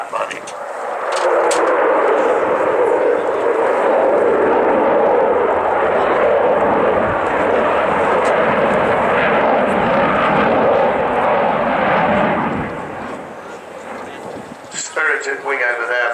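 An Avro Vulcan bomber flies past with a loud, rumbling jet roar that builds quickly, holds for about ten seconds and fades, followed by a short moment of crowd noise.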